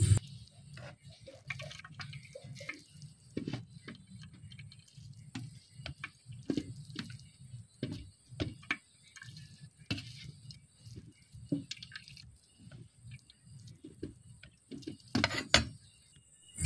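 Water drips from boiled raw papaya as it is squeezed by hand, faint irregular drips and small wet clicks scattered through a quiet kitchen, no one talking.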